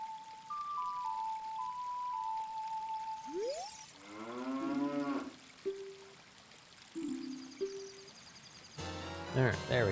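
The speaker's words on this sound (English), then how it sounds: "I wonder if this cow will probably produce milk" A cow in a Zelda video game moos in a few short, low, drawn-out synthetic calls among chimes and other game tones, with a quiet backdrop and talk nearby.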